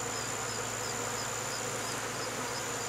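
Honeybees buzz steadily and close by near beehives, a continuous droning hum with individual insects passing near the microphone, no talking.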